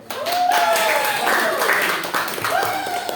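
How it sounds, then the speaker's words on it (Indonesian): Short burst of classroom applause as students clap for a group presentation during a microteaching lesson, mixed with voices and a few tonal squeals over the clapping. "Oke, tepuk tangan dulu."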